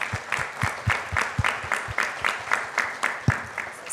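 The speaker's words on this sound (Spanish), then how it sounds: "a quienes recibimos con un fuerte aplauso" Audience applause welcoming panelists at a conference on artificial intelligence and ethics in law, a steady round of clapping with rhythmic sharp claps standing out, moderately loud and unbroken throughout.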